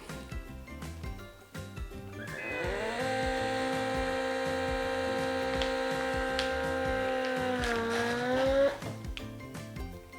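A vacuum sealer pulls air from a freezer bag for sous vide cooking, a steady motor hum with a whining tone running for several seconds before shifting pitch and cutting off, close and moderately loud with no talking.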